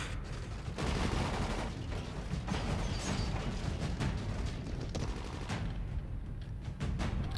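Rapid gunfire from a co-op zombie game, shots cracking close and loud in dense bursts that barely let up, with sharp individual reports breaking through a constant roar of action.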